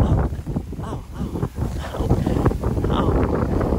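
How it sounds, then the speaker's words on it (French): Strong wind gusts buffet the microphone in an outdoor garden near an apple tree, a loud continuous rumbling roar that surges and eases over a few seconds. "Il y a plein de vent, il fait bon"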